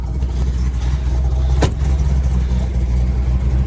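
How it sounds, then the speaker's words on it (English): A 1968.5 Ford Mustang R Code 428 Cobra Jet with a 4-speed runs close and loud, a steady deep rumble with a brief sharp spike partway through. "Engine is very, very healthy"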